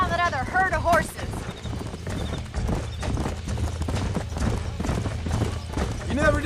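Horses in the Red Dead Redemption video game clop along with steady, rhythmic hoofbeats, close and prominent, with a whinny near the start over game background sound.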